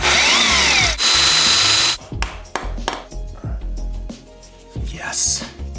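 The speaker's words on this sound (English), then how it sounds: "now let's break out the left-handed drill bit" Power drill spinning a left-handed bit to back out a broken stud recessed in a hole on a junkyard Ecotec engine, with loud bursts of drilling and grinding, then intermittent metallic clicks and scraping.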